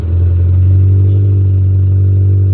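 A manual-transmission car engine held at a steady low drone as the gas pedal is pressed, a constant loud hum with little change across the moment.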